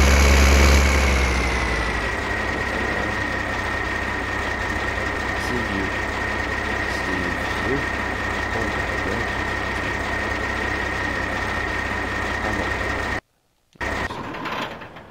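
A tractor engine idles steadily in Farming Simulator 15, a constant low mechanical drone with a faint whine that holds for most of the stretch, broken by a brief dropout near the end, with no talking.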